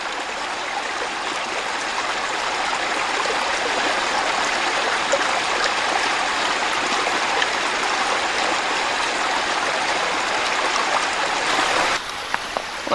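Mountain stream flowing past ice on a winter hike, a continuous rushing and trickling wash of water close by, steady throughout with a slight drop near the end.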